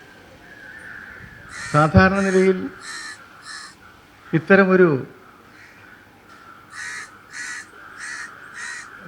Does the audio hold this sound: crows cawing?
yes